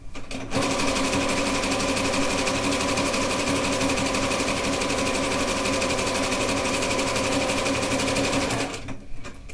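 A sewing machine stitching quilt trim fabric on a rag quilt runs at a steady, even whir for about eight seconds, close and loud, starting and stopping cleanly.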